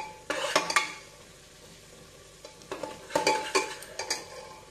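A spoon stirs homemade spice powder into vegetables in a pan, giving soft scraping and clinking strokes in two bursts with a quiet gap between them. A faint sizzle sits underneath.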